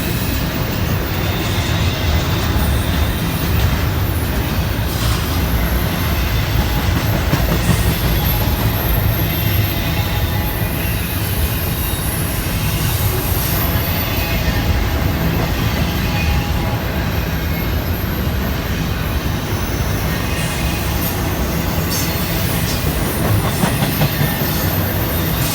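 Q142 freight train rolls past in Dallas, Georgia, a loud continuous rumble of wagons with clattering wheels and faint squeals lasting the whole stretch, no voices.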